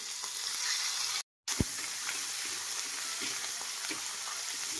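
Chili paste sizzles steadily in hot oil with crackling and a few spoon scrapes; the sound cuts out briefly near the start, then resumes.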